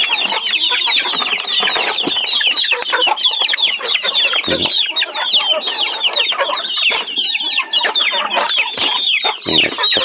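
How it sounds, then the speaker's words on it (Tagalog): A flock of hungry chickens clucks and chatters continuously, close and loud, with overlapping calls and a few low thumps. "Yung mga manok, gutom na rin sila."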